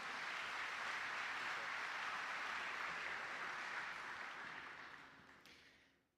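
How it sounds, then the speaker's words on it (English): Steady, dense applause from an awards luncheon crowd fills the clip, continuous and even before gradually fading out at the end. "one more big round of applause for Scott, our winner."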